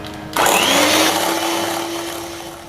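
An electric hand beater starts abruptly and whirs loudly at a steady high pitch, its motor tone sliding slightly as it churns banana pancake batter in a bowl, close up and with no talk.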